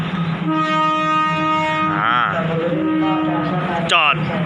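At a rural railway station, a special express train passes a stopped local train, sounding long loud horn blasts with a steady rumble underneath and a short sharp horn near the end, close by.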